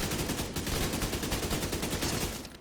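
Rifle gunfire in The Division 2 crackles in a rapid, steady stream of close, loud shots, running almost unbroken for a few seconds before cutting off.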